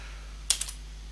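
A couple of quick keystrokes on a computer keyboard sound close and crisp over a low steady hum, with silence before and after.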